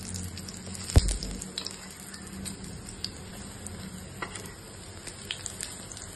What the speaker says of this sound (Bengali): এবার আমি আরেকটা পিঠও ভালো করে ভেজে নেবো।